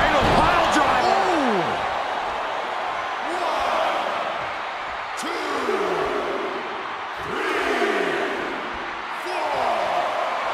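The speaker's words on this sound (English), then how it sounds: "The sound of this crowd is deafening, and he's asking for more." Video game wrestling arena crowd from WWE 2K24, a Roman Reigns vs Jon Moxley title match, roaring steadily with swelling waves of noise and loud thuds and impacts over it, while a commentator talks.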